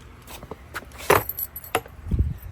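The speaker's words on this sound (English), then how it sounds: "we're gonna see real quick if I can find my keys" Keys jangle and clink in a few short bursts near a JZX100 Chaser with a 2JZ engine, followed by a low thump and some faint background noise.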